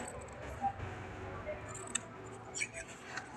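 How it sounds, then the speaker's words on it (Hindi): Scissors snip away excess fabric while stitching a kurti, a few quiet close crisp cuts and clicks spaced apart, with someone talking softly in the background. "अब हमने जो हमारा एक्स्ट्रा ये देखो जैसे इतना सारा कपड़ा है उसको हमने ऐसे काट देना है"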